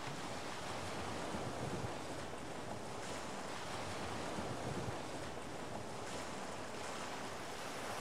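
Foamy ocean waves wash onto a distant sandy shore beside a rocky island, a continuous broad surf roar mixed with wind gusts and no voices.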